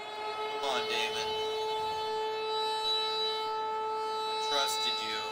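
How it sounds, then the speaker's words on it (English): In the Madden 26 football video game, the big red siren at State Farm Stadium in Glendale blares a steady, droning tone throughout, while game commentators talk over it at the start and the end. "That sound of the big red siren brings the Cardinal."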